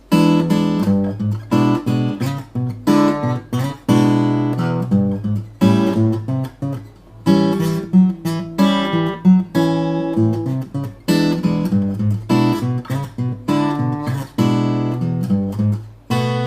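A fingerstyle blues guitar with a walking bass line in a 12-bar pattern plays close and loud in steady plucked phrases, chords and bass notes ringing together without pause and without talk.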